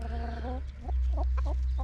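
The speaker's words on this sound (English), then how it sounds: "all of our chickens are right out here" Several chickens cluck and murmur close by in short, repeated bursts in a deep-litter winter run, over a steady low outdoor rumble.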